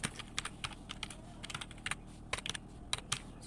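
Someone types on a computer keyboard while filling table cells, tapping Tab to move to the next cell; close, quiet key clicks come in quick, uneven bursts with no talking.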